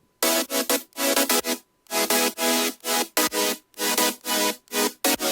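Layered electronic chords, called illusion chords, from a self-produced track, pulsing in loud, dense stabs with brief gaps between them in a steady rhythmic pattern, with no one speaking.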